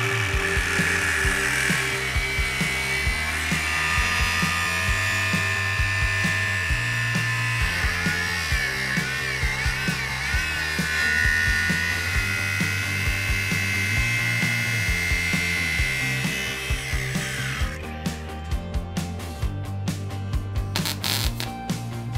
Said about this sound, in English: I'm going to have to make a couple of incisions here so I can fit our roller bearings in the head tube